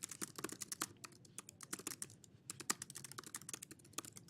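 Steady, rapid typing on a computer keyboard, quiet clicking keystrokes in quick irregular bursts with brief pauses, heard alone without talking.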